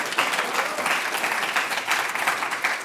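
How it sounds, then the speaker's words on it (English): Steady applause from a large audience at a Stanford celebration of human and planetary health, welcoming a presenter to the stage; the dense clapping stays loud and even throughout. "applause at the beginning is really welcome, too."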